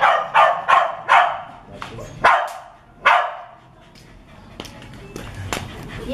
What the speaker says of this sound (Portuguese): O cachorro fica enchendo o saco